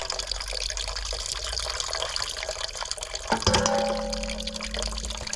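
Old fluid drains from a Craftsman ride mower in a steady, close trickle, joined late by a brief clank and a sustained splashing pour.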